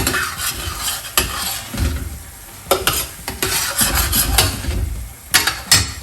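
Masala for prawn pepper masala sautéing in a pan, a continuous close sizzle broken by repeated scraping and stirring knocks of a utensil against the pan, with no talking.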